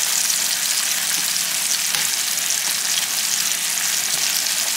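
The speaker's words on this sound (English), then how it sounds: "get that butter on here, and I'm just going to smear that in" Butter sizzling loudly as it is smeared over a ribeye steak in a hot pan, a constant close hiss with no pauses and no voices.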